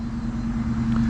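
Upgraded DEERC 9201E RC car with a gyro making a speed pass, a steady loud motor whine holding close and even throughout, with no talk over it.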